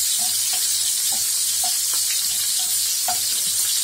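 Garlic fries alongside browned pork ribs in a loud, continuous sizzle, with regular spoon clinks and scrapes from stirring repeating every half second or so.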